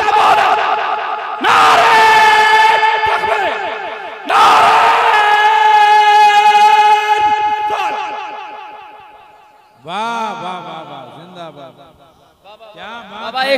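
At a naat gathering, a crowd chants the takbir slogan in loud, swelling unison bursts after a leader's call, each shout lasting a couple of seconds with brief gaps between, recorded close and echoing.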